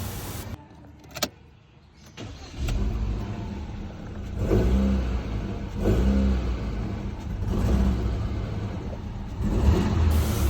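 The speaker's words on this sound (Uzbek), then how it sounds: "Hozir motor ishlash jarayonini ko'ramiz bir qator." A propane-fuelled Chevrolet Cobalt engine idles roughly and unevenly nearby, a steady low rumble rising with throttle blips in several swells, with a sharp mechanical click early on.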